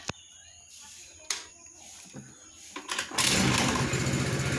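A Japanese Suzuki Choinori scooter being started: a few sharp clicks and mechanical clunks, then the small engine catches and runs at a loud, steady idle close by.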